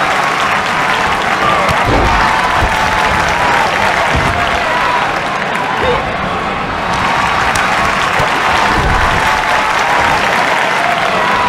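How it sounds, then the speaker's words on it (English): Loud, continuous arena crowd cheering and applause from a WWE 2K23 wrestling match, filling the whole stretch with steady roaring noise and brief swells. "do you think the home fans are cheering for?"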